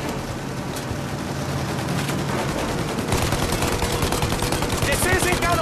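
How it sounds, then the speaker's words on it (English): Heavy, dense gunfire pounds steadily at a plane's engines in the video game Mafia: Definitive Edition, a continuous rattling barrage that grows slightly louder toward the end. "Shoot out the engines!"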